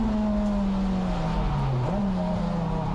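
Honda racing cars at Oulton Park circuit, an engine droning loudly with a sustained high note that dips then climbs again as the throttle comes on, continuous and close throughout.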